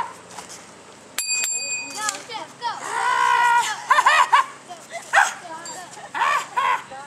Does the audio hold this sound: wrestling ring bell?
yes